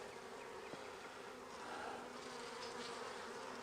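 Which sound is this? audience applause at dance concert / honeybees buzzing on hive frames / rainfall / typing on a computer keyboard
honeybees buzzing on hive frames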